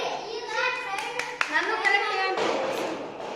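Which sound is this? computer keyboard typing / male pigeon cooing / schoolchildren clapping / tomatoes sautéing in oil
schoolchildren clapping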